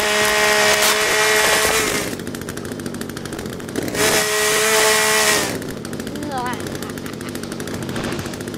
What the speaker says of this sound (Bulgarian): имаме резачката Форест